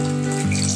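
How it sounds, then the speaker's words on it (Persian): Lukewarm water pouring into a pot of rice for a Persian-style chicken pilaf, a steady, close, loud rush that shifts tone briefly as the stream settles. "4 پیمانه آب میریزم روش. آب ولرم اضافه میکنم بهش."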